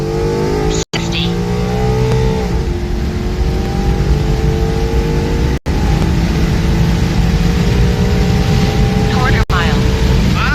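A car engine fitted with new headers pulls hard and steady from around 2,000 RPM, a loud, continuous exhaust roar with rising harmonics, broken by a few brief dropouts, while someone talks over it.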